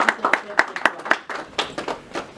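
An audience at a French-language forum event in Cape Town applauds, with sharp, irregular claps that start sparse and thicken into looser clapping, heard close and alone.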